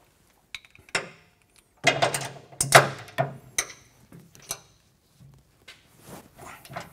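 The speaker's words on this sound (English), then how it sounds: "now we can torque these to 80 foot-pounds." Bolts on a hitch center section and safety chain brackets are tightened with a torque wrench to 80 foot-pounds, producing close, irregular metallic clunks, clicks and knocks separated by quiet gaps.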